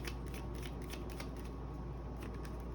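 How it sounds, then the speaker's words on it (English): Tarot cards are shuffled in a steady, rapid riffle of soft papery flicks that carries on throughout, close by and with no voices. "Ooh, got cards flying out all over the place."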